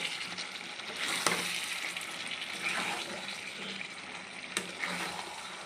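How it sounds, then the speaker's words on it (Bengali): Fried chicken sizzling in oil in a pan as water goes in, a soft continuous frying crackle with a few sharper splashy hisses rising and falling. "এবার আমি জল দিয়ে দেবো"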